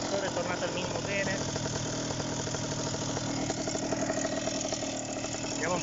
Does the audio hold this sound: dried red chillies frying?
no